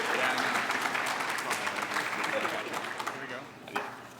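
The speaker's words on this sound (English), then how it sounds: "Give them a round of applause." Audience applause fills a high school awards day gathering, steady dense clapping throughout that tapers slightly near the end, with a voice briefly audible over it.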